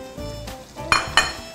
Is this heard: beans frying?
yes